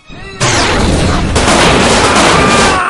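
Loud, dense burst of video game gunfire starts abruptly and continues as sustained, rumbling shooting with heavy explosive noise throughout.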